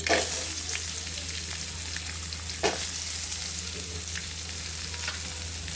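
Onions frying with whole spices such as cinnamon and cloves in a pan for vegetable biryani, a steady close sizzle with occasional stirring scrapes, no talking.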